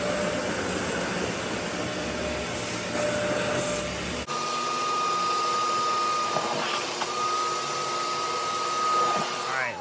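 Steady loud whine and suction roar of a Bissell Little Green Machine portable carpet cleaner vacuuming water out of a couch crack, with the pitch shifting partway through as the nozzle moves.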